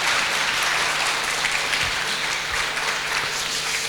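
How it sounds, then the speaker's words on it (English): Sustained, dense applause from an audience at a browser-games tech talk, greeting volunteers as they come up on stage; loud and steady for the whole stretch, with no talking over it. "Give them a huge round of applause as they come up to the stage"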